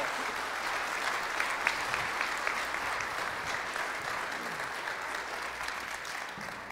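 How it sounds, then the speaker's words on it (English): A crowd claps steadily in sustained, dense applause that holds at an even level throughout. "if you give them a big round of applause"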